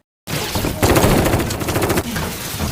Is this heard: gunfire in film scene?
yes